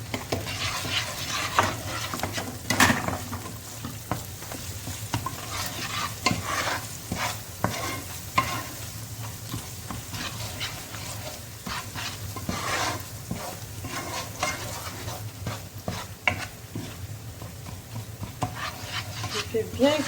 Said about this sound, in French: Je fais bien cuire le concentré de tomate